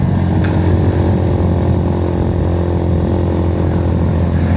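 A 2022 Honda Grom motorcycle engine on a first ride drones loud and steady, a constant buzzing hum with wind rush and no break in the throttle tone.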